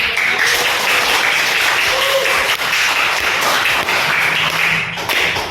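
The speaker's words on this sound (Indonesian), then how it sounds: "Beri tepuk tangan." An audience applauds steadily, a dense, loud wash of many hands clapping at once that holds evenly without pause.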